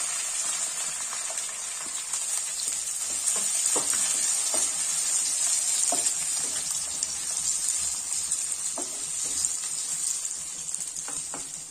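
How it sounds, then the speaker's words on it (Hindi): Garlic pieces and a large chopped onion fry in a pan with cumin for aloo methi, giving a continuous bright hiss like light rain, with occasional soft stirring knocks and no speech. "और इसमें डालेंगे अपन लहसुन, लहसुन के टुकड़े, प्याज डाल देंगे एक बड़ा प्याज कटा हुआ,"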